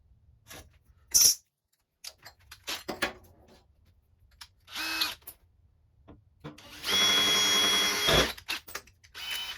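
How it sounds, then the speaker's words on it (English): Power drill fitted with a long drill bit, drilling in a car firewall for a Hayabusa-powered Z car, heard in several short whirring bursts before one sustained loud run near the end. "Now you'll see why I needed the longer drill bit to help guide."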